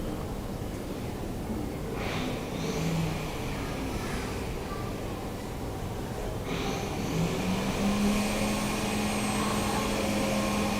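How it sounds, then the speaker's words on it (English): Construction work goes on outside: a steady, muffled broadband rumble of machinery, with a few low droning tones and brief surges, continuous and fairly distant. "Sorry about the sound. Yeah, there's some construction going on."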